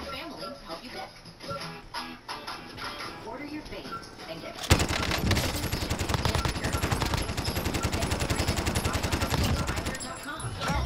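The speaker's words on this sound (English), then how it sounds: "I shot him right through the fucking wall" Heavy automatic gunfire in a Call of Duty: Modern Warfare multiplayer match, a dense, loud burst that erupts midway and keeps rattling with game effects, while players chat over voice.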